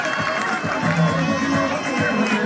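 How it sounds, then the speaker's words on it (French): Crowd at a gym club demonstration cheering and clapping in a continuous, lively wash of voices and applause, with shouts rising over the steady noise throughout. "on applaudit pour lui, on l'encourage là"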